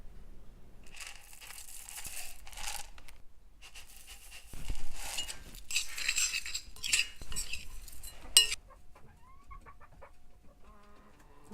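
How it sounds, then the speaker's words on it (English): Scrambled eggs being mixed with sunflower seeds and cracked corn as chicken feed, with scraping, stirring and crinkling clatter in bursts, while indoor chickens cluck and chirp faintly in the background. "I'm going to mix it with some sunflower seeds and a little cracked corn too."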